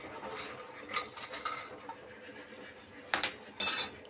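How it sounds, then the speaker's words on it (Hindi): Makhana (fox nuts) roast in a pan while being stirred, with soft scraping and rattling and then a few sharper metallic clinks of a spoon against the pan toward the end, with no talking. "यहाँ मेरे मखाने भी भून रहे हैं"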